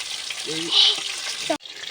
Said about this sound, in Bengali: এই মাছগুলো ভালো করে ভেজে নিতে হবে